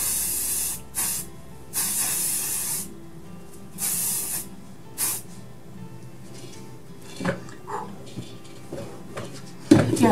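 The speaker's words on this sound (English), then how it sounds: "I flip my head over and I spray loads of hairspray." Hairspray from an aerosol can sprayed over flipped-over hair, heard as several bursts of sharp, airy hiss, each about a second long with short pauses between, followed by softer handling rustles and a clatter at the end.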